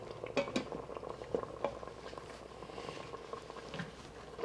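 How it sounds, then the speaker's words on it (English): Beef Guinness stew simmers in an Instant Pot on saute mode, a faint bubbling with scattered soft pops and small liquid blips, close by and steady, with no talking. "We're just gonna let that simmer for 2 minutes."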